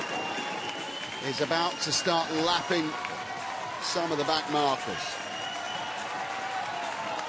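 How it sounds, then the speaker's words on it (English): Spectators applaud and cheer triathletes running in an elite men's World Series race on the Gold Coast, a steady crowd wash of clapping running continuously beneath an excited commentator's voice. "Halfway through the run and being warmly applauded."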